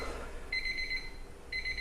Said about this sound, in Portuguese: Agora o nosso timer, ele avisou ali, ó.